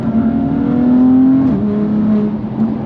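A loud BMW F80 M3 exhaust with an S55 engine and a Valvetronic Designs equal length exhaust drones close by, holding a steady rev before the pitch dips and then settles again.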